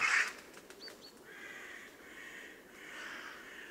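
Grey crows caw in a city park among bare trees, one faint harsh call at the start followed by distant, quiet calls over low background hum.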